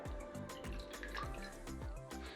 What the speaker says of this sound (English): So now let's strain the potatoes from water.